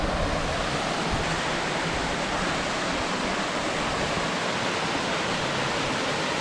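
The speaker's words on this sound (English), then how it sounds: "But this is the waterfall here" Waterfall pouring over rocks at the shut-ins, a dense, steady roar of rushing water close at hand with no voices.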